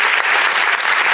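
A studio audience bursts into applause on a live talk show, a dense, steady wash of clapping that lasts about a second.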